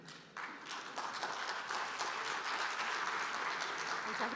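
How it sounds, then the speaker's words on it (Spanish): Audience applause for a speaker at an oil and gas industry conference, steady even clapping from a seated crowd that swells and holds for several seconds. "Un aplauso para ella, por favor."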